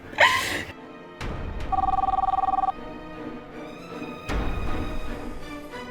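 Telephone ringing in an Indonesian TV drama scene: a steady electronic ring of rapid pulses lasting about a second, set between louder musical hits and background score, with no voices over it.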